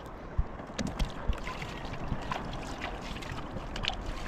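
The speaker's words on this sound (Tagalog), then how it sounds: "Ang lakas na ng hangin mga ka-idol. Ang laki na ng mga alon." Steady rushing strong wind and churning large waves around a small fishing boat at sea, with scattered splashes and knocks throughout and no voices.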